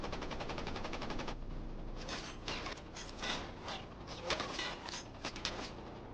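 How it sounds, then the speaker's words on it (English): Escort warships open fire on a WW2 American submarine at night: a rapid machine-gun burst rattles off first, then ragged bursts of gunfire crackle and pop over a steady low rumble. "Escorts, now alert to the sub's presence, open fire on Parchee in retaliation."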